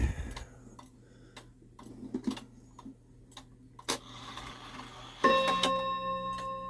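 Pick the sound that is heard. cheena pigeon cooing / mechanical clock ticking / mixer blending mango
mechanical clock ticking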